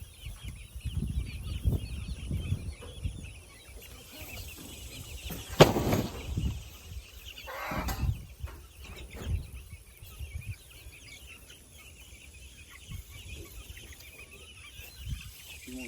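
Young chickens being moved to a new enclosure give faint scattered clucks and chirps, quiet and intermittent, with a few louder knocks and handling bumps and someone talking softly at times.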